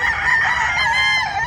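A Sweater x Gilmore two-way cross gamefowl rooster from a local banded batch lets out a single loud, close crow that holds steady and strong for its full length.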